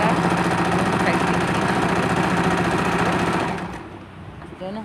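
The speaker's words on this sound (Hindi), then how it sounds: "दोनों हाथों से खींच कर अच्छी तरह से इसकी सिलाई करें।" Sewing machine stitching a name onto a handkerchief runs with a steady, loud whirring rattle, then slows and fades out near the end, with brief talk over the tail.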